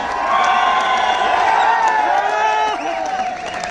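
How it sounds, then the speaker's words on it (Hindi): A crowd at a live talk or seminar event claps and cheers loudly and continuously, with whoops and shouting voices carrying over a dense wash of applause that fades slightly near the end. "अपनी जगह पे खड़े होकर उस माँ के लिए तालियां बजा दो"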